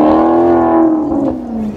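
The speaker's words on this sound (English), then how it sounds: "that's a crisp sounding V8, bro" A V8 car engine on a Mexican street revs loud and close in one sustained burst, its pitch sliding slowly downward as the sound fades a little toward the end.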